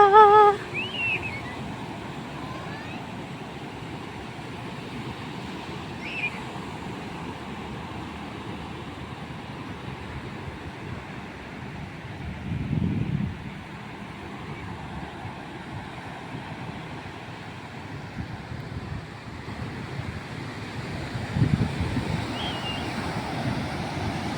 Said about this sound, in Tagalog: mas sobrang malalaki yung alon, oh